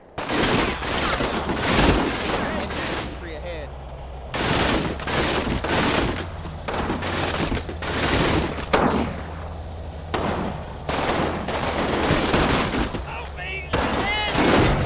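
Combat Mission Final Blitzkrieg gameplay brings repeated bursts of gunfire and shelling from an anti-tank crew and surrounding troops, dense loud volleys that run almost continuously with brief gaps, under a low steady rumble.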